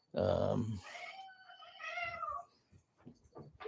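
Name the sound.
cats fighting and meowing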